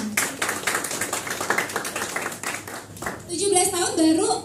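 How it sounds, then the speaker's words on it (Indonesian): Audience applause at a youth civic event, a run of rapid, fairly close hand claps for about three seconds, then fading as a speaker's voice and other talk take over. "tepuk tangan"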